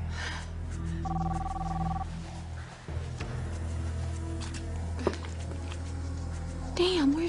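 A telephone rings in steady repeated bursts over a low background hum, with a voice speaking briefly near the end.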